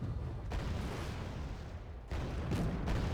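Mortar fire and explosions in the strategy video game Wargame Red Dragon, heard as a continuous roar of distant blasts with a heavier boom surging in near the end, no voices over it.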